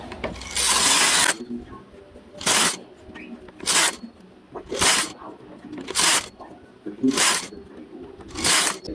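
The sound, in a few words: knitting machine carriage knitting rows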